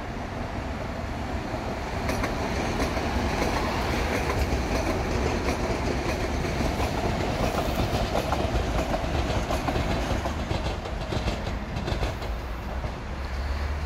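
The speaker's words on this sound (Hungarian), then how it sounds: "Először lesz meg a Super Hév, pont az jön vissza." A Super HÉV suburban electric train bound for Szentendre passes close by at Budakalász, a loud steady rumble with clickety-clack wheel beats and a little squeal, alone without talk.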